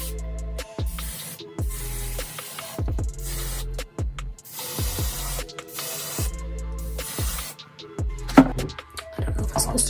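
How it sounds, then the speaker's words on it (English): Hairspray is spritzed onto hair in a series of sharp, hissing bursts of varying length separated by brief pauses, close and fairly loud, with a little low background sound between sprays. "Okay, spritz. Now it's time for spritz."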